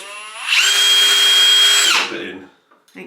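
A small power drill bores a pilot hole for a screw, whining steadily and close for about a second and a half, then winding down into faint handling noises.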